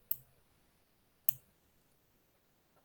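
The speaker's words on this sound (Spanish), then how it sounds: "Listo, hacemos clic." Mouse clicks at a computer running statistics software, three crisp, isolated clicks spaced about a second apart in an otherwise quiet room.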